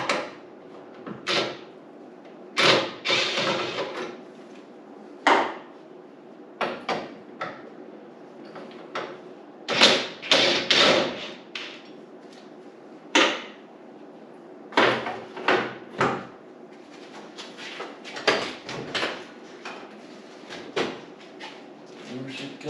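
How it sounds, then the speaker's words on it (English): Pulling the door off a 1986 car with its bolts already loosened brings a string of metallic clanks, knocks and scrapes in irregular bursts, close and fairly loud, with short pauses between them. "Alright, I already started by loosening the bolts, so pull the door off."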